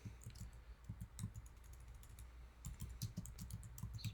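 Quiet, close computer-keyboard typing while coding in JavaScript comes in quick bursts of light key clicks, with a short lull midway.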